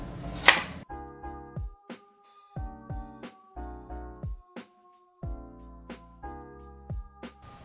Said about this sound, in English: I swear I need like goggles to cut up onions.